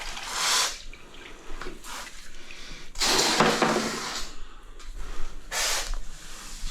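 A grout sponge being rinsed in a bucket of water during porcelain tile grouting, with bursts of splashing and squeezing water, three stronger washes separated by quieter dripping and handling sounds.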